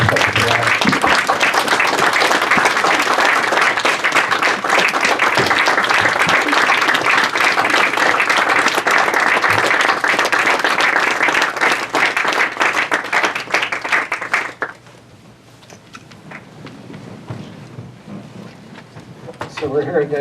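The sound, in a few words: crowd standing and clapping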